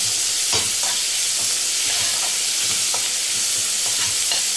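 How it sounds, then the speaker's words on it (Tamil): Ginger garlic paste sautéing in a hot pan, a loud continuous sizzle with faint rhythmic stirring taps throughout. "இஞ்சி பூண்டு பேஸ்ட்டு அதையும் போட்டு நல்லா வதக்கிக்கலாம்"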